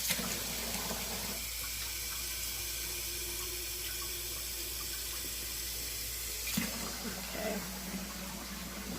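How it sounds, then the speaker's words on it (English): Water pours into the bottom tray of an oven, a soft running splash that thins mid-way and swells again, quiet and close. "I'm going to add some water to the bottom tray."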